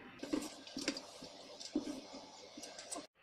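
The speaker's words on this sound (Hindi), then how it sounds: "और पानी अच्छे से छान लेंगे।" Water from boiled rice for Hyderabadi chicken dum biryani is strained off and drains in soft, irregular splashes and trickles, quiet and close.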